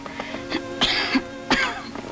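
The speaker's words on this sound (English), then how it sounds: "And this cough." Two harsh coughs from a man in a 1950s Western film scene, each a sharp burst with a short wheezy tail about two-thirds of a second apart, close and clear in a quiet room.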